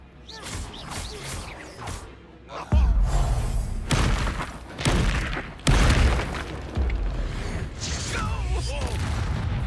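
Confringo blasting spells explode in the wizarding video game Hogwarts Legacy: a series of loud, booming, crashing blasts with debris shattering between them, mixed with combat voices.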